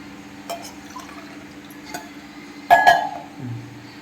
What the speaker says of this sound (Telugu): నీరు పోసేస్తా ఇదిగో గ్లాసు నరబియ్యానికి మూడు గ్లాసుల నీళ్ళు